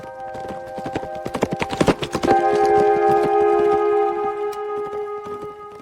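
A herd of wild horses on wide Australian grasslands, hooves clip-clopping in a quickening patter that peaks near two seconds, then gives way to sustained tonal music with fainter hoof beats.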